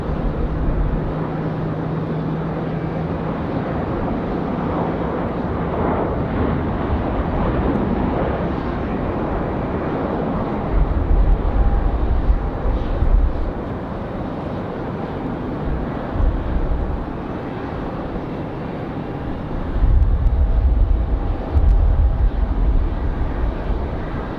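An airplane landing on runway 5 left at Raleigh Durham airport, a broad continuous roar heard at a distance in windy conditions, with low gusty rumbles swelling at times and no voices.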